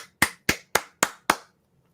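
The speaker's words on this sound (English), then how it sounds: "Should I clap some more?" One person claps five sharp, evenly spaced claps close by in a quiet room, each a crisp slap with a short decay, followed by silence.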